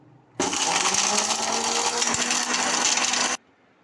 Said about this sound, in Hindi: अब हम इनको ग्राइंड करते हैं।